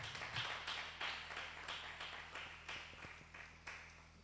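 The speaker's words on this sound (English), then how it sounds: "A round of applause for her." A small seminar audience claps in a steady, fairly even rhythm of distinct individual claps, moderately close, over a faint steady electrical hum, without talk.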